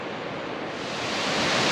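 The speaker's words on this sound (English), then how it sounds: "it's believed to be the highest waterfall in Tasmania" A steady, broad roar of falling water from St. Columbia Falls in Tasmania, a high waterfall, constant and close, slowly swelling slightly louder.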